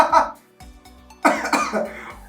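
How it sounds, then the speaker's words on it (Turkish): A child coughs in a short fit while laughing, with a couple of bursts followed by a louder cluster of coughs and throat-clearing, close and loud. "o video gülerken öksürüm tuttu ya"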